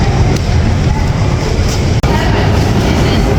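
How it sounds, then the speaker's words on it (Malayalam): A metro train rumbles steadily into an old, deep underground station in Russia, a continuous low roar with a brief sharp click midway, no voices. "ഭൂഗർഭ അതാ ഒരു ട്രെയിൻ വരുന്നുണ്ട്."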